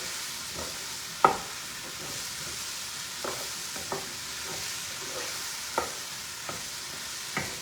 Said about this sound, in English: Just going to saute these just for another minute.